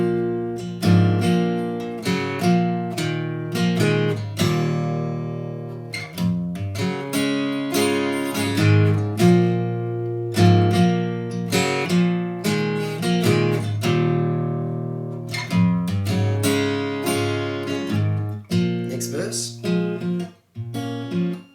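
An acoustic guitar plays a riff, with steady, rhythmic plucked and strummed notes and chords ringing clearly and close for about twenty seconds, with no talking.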